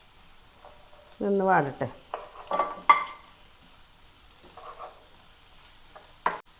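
Ginger, garlic and green chilli sauté in a pan, with soft sizzling broken by a few short bursts of stirring and scraping; a voice speaks briefly between them.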